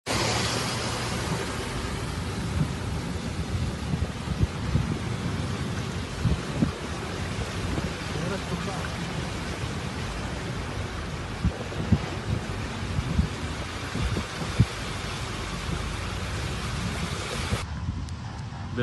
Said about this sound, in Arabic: نزلت موية في ساعتين أمطار كثيفة